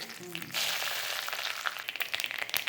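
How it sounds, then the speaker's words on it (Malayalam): Mustard seeds sizzle and pop in hot oil, a close, steady frying hiss with quick crackles scattered through it. "എണ്ണ ഒഴിച്ചിട്ടൊന്ന് കടുക് പൊട്ടിക്കണം"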